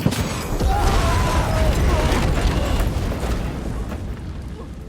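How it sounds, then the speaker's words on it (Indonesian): A car's fuel tank, struck by a gunshot in an action film, explodes with a deep, sustained booming roar and crackling debris that gradually fades away, with no talking. "tembakan itu meleset dan mengenai tank mobil yang seketika terjadilah ledakan"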